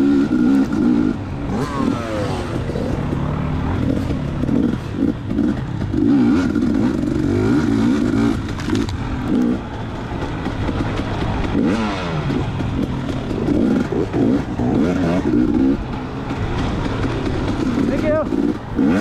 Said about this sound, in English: Here's somebody revving behind me